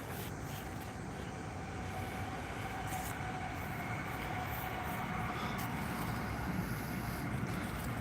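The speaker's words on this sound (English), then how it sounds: "we got another train coming." A train passes at a distance with a steady, fairly quiet rolling rumble of wheels on rails that holds throughout.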